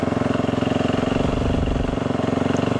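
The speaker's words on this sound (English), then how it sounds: "with the background noise of the motorcycle running, you can still hear the audio just fine from me" A KTM 350 EXC-F dirt bike engine runs steadily nearby on a cold morning, a loud continuous throb with even, rapid firing pulses and no changes in revs.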